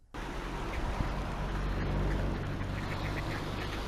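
Several ducks quack in scattered bursts against a steady outdoor background hum, moderately distant with no talking.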